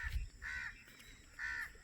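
Crows cawing in the evening near Mangla Dam, three separate harsh calls at moderate distance, faint against quiet outdoor background with no talk.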